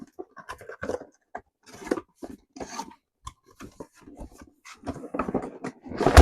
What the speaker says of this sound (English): All right, let's unbox this.